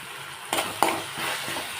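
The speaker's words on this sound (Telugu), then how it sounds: "ఇదిగోండి ఫ్రెండ్స్, ఉడుకుతుంది" Potato masala curry with raw tomatoes cooking in a pan, a steady soft sizzle with a couple of brief stirring scrapes, close and continuous.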